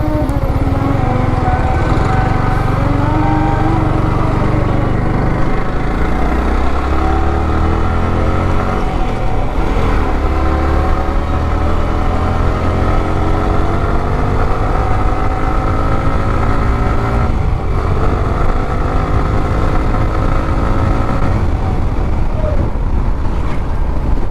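A motorcycle engine runs loud and close for the whole stretch, its pitch slowly rising and falling as the revs change, with wind buffeting the microphone.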